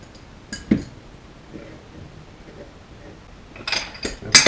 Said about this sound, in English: we're just going to thread this bushing onto this shutoff that we built